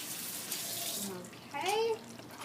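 Kitchen tap runs while dishes are washed, a steady water hiss with a brief louder splash near the end; someone speaks briefly.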